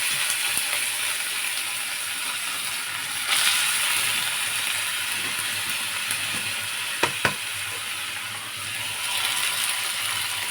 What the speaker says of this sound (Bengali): লঙ্কা ফোড়ন আর সর্ষে ফোড়ন দিয়ে দিয়েছি দিয়ে এবারে ওটা হয়েও গেছে এই যে ফাটছে দেখছেন